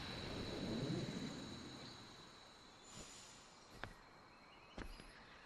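A Thunder spell is cast in the video game Kingdom Hearts, a rumbling boom that swells and fades, followed by a few sharp crackling strikes, with no talking.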